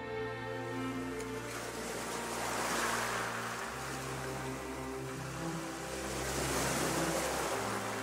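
Sea waves wash around a boat drifting on open water, a continuous swelling surf with wind noise that rises and falls in slow surges, underlaid by a low sustained drone.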